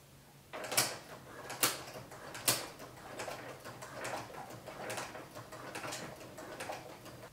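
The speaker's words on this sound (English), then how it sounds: "A walking foot is going to take this through the machine more evenly." A sewing machine with a walking foot stitches through quilted fabric, giving a faint mechanical whir with a few sharp clicks early on, then a steady rattling run.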